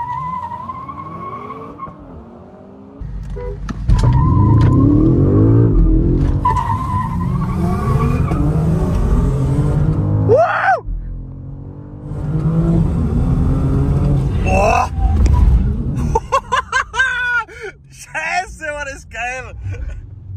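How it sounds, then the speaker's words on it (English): An Audi RS5 and a BMW M5 G99 launch and accelerate hard in a drag race, with loud engine roars rising through the gears, tire noise, and excited voices talking over them. "This is gonna be the first drag race I win."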